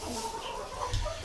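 Chickens clucking softly inside a backyard coop, a few faint, scattered clucks over low background noise, with no people talking.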